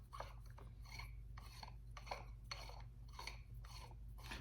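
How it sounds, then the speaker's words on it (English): A metal handle is unscrewed from a Mace Windu lightsaber replica, giving close, faint rhythmic scraping strokes about twice a second over a low hum. "To get to everything, you want to unscrew the handle"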